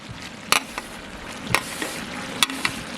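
Chayote cooking in a pan with coconut being added, a steady close sizzle of frying under a few sharp clinks and scrapes of a spoon on the pan, spaced about a second apart, with no talk.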